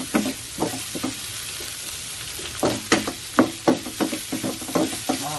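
Shrimp frying in a wok over medium-low heat, a steady soft sizzle punctuated by repeated rhythmic stirring scrapes, close and clear with no talk.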